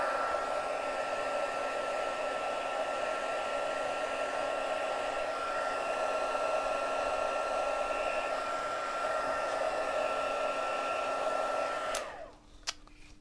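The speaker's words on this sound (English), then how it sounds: "I'll heat this one a bit more too." A heat tool blows steadily on a stamped paper craft on white watercolour paper, a loud continuous whoosh that runs alone for about twelve seconds before cutting off abruptly.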